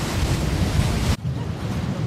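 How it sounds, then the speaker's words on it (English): Wind and waves on the Sea of Galilee make a loud, continuous broadband rush, with heavy wind buffeting the microphone and surf washing beneath it. The noise drops abruptly for a moment partway through, then continues. "Hey, you stupid wind and waves!"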